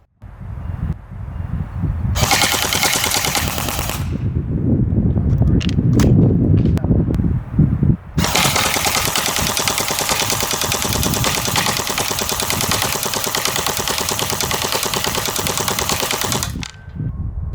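Barra 400E Gen 2 all-metal electric .177 BB machine gun firing in long rapid bursts, a short burst early then a sustained stream of shots lasting about eight seconds, loud and close with no talking.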